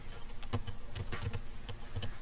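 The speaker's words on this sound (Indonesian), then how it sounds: "Contohnya di sini saya akan mengetik download" A word being typed on a computer keyboard, giving a quick irregular series of soft key clicks close by over a faint background hum, with no talking.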